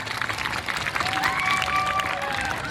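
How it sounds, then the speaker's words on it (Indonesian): A crowd at a village community event applauds a choir, a steady wash of clapping with some cheering and a few voices in the background, close and fairly even throughout. "tepuk tangan buat tim paduan suara"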